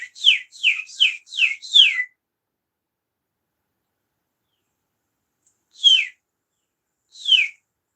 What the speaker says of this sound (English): Sounds like a cardinal.